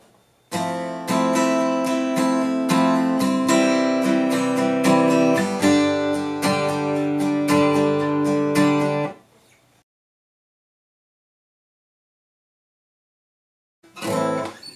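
Strummed guitar chords from a song's instrumental play steadily for several seconds, then stop into silence before a short burst of strumming returns at the end.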